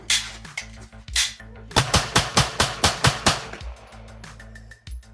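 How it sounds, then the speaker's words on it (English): Pistols fired at a shooting range crack out in a loud, close sequence of about a dozen shots, most in a quick even rhythm, with some echoing reports before and after. "We got there and shot up our pistols"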